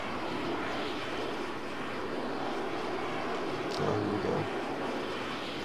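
Steady roaring engine of a Mach 2 fighter jet in the Arma 3 video game, a continuous loud drone with a brief swell near the end and a short spoken remark over it.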